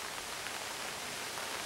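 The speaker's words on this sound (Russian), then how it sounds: "Вовсю разошелся дождик" Rain pours steadily around a campfire where a Finnish candle log burns, a soft even hiss of falling drops with no voices, faint and continuous.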